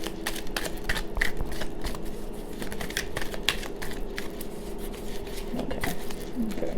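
Tarot cards are shuffled in a steady rapid patter of soft flicks and taps, continuing throughout at close range.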